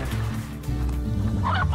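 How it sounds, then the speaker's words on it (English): A chicken clucks in the video game Slime Rancher, a close, loud burst of low, throaty fowl calls lasting under two seconds. "Another chicken."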